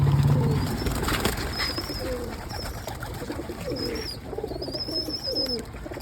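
Pigeons coo in low, repeated throaty phrases close by, with steady background hum and faint chirps; cool water is being given to the birds on a hot summer day.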